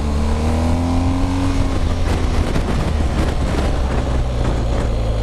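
A 2020/2021 BMW R 1250 GS motorcycle engine revs and pulls through gears, a loud, close, continuous low engine drone with rising tones and rushing wind.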